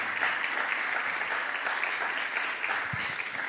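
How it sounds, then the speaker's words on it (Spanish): A church congregation applauds in worship during a sermon, a dense, even roar of clapping filling the space throughout, with a brief low thump near the end. "dale tu aplauso al Rey."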